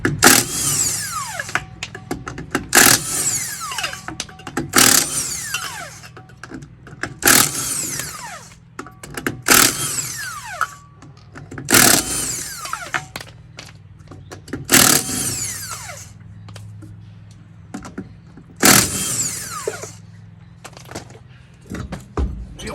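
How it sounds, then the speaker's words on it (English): Lug nuts spun off a jacked-up trailer wheel on Dexter axles with a power tool: about seven loud, short whirring bursts separated by pauses of a few seconds, with faint background noise between them. "Then you take your lug nuts off."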